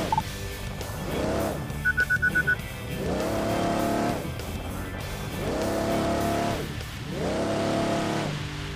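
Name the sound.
UTV off-road vehicle climbing hill in Overpass 2 video game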